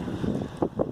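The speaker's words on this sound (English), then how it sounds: "it is super windy" Strong wind buffeting a microphone outdoors beside a jacked-up 2003 Hyundai Accent, a brief rough rumble of gusts pushing close and loud.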